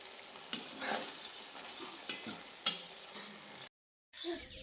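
Steady sizzle of tempering for a pumpkin vegetable dish in a hot pan, punctuated by three sharp metallic clinks of a utensil, then a brief silence before the sizzle resumes.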